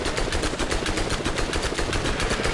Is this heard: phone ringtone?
no